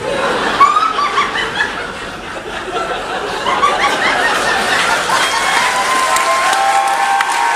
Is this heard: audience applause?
yes